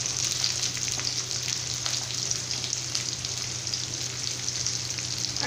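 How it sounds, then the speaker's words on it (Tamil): One large onion, cut into long slices, fries in oil with spices for a potato and pea kurma, a soft continuous sizzle and bubbling heard up close but at low volume, without pauses. "நல்லா பொரிஞ்சு வர டைம்ல பெரிய வெங்காயம் மிக நீளமா கட் பண்ணி ஒரு பெரிய வெங்காயம் ஆட் பண்ணிருக்கேன்"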